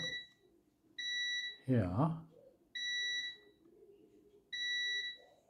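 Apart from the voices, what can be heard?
multimeter continuity beep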